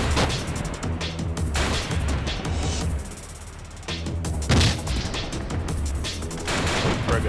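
Frag grenade explosions and heavy gunfire in a military video game, loud continuous bursts of shooting with a few deeper booms, briefly easing midway before resuming.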